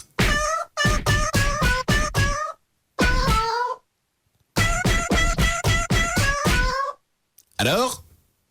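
Rapid bursts of strained, meow-like cries in tight rhythmic groups, loud and close, then a final rising wail. The pattern suggests a voice or a sound effect imitating a cat.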